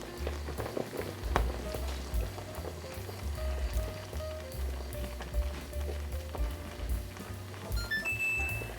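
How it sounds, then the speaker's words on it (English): Steady bubbling and popping of strawberry lemon marmalade boiling in a pot on a stove, continuous and fairly close, with a few brief tones near the end. "It is boiling pretty good."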